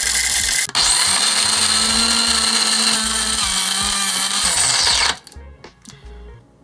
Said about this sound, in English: Now you press the start button and it grinds into this plastic chamber.